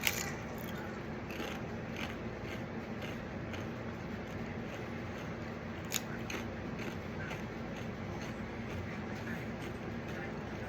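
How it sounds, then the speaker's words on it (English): Someone eats a Paqui One Chip spicy chip, with close, faint, steady crunching and chewing over a low background hiss, plus a sharper crack near the middle. "I'm going to go ahead and I'm going to eat this one stupid fucking chip"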